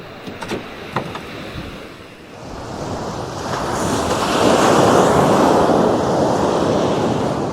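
Ocean swell washing against the shore as wind buffets the microphone, a few faint knocks early on, then a broad surging roar that builds and stays loud and steady.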